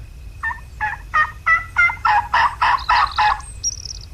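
Wild turkeys gobble in the Turkey Hunting Unlimited hunting game, a run of about nine rapid, evenly spaced gobbling pulses that sound close and loud, followed by a brief higher call at the end.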